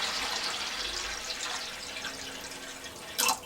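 Water from a tap runs steadily into a cooking pot over rinsed Santorini fava split peas, a constant rushing fill ending in a brief louder splash.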